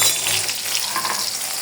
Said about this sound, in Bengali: এই যে তেলটা গরম হয়ে গেছে, তখন এখানে দিয়ে দিব পেঁয়াজ কুচি, টমেটো কুচি দিয়ে দিলাম পরিমাণ মতো।